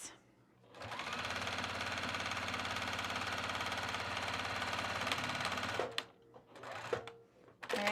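A sewing machine stitches down a piece of breezy overalls, running as a steady, fast, close-up whir for about five seconds before stopping, followed by a few brief clicks and handling sounds.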